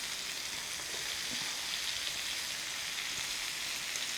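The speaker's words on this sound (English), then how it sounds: "now what I am going to do is I am going to add the onions" Onions stir-frying in a pan for a vegetable dish make a steady, even sizzle that holds at one level throughout, with no talking.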